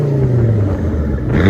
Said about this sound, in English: Volvo S70 Turbo. Oh, you can hear spool here.